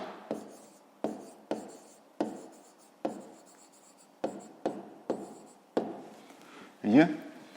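A pen writes out a math answer on paper in short, crisp scratching strokes, about a dozen quick bursts in an uneven rhythm, close and clear with no talking.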